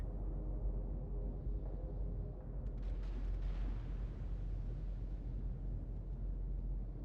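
Battleship gunfire from USN New York class ships in the World of Warships video game: a low, distant boom with a brief burst near the middle over a steady rumble, fairly faint, with no speech.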